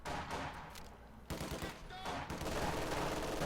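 Machine gun fire suppressing Soviet conscripts in Company of Heroes 2, bursts of rapid gunfire mixed with battle noise and distant explosions, growing denser and louder toward the end.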